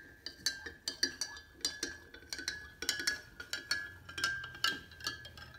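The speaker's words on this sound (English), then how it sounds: "Stir it around with your spoon." A spoon stirring rice in a bowl, giving quick, rhythmic light clinks and ticks of metal against the bowl, quiet and close, repeated steadily with no talking.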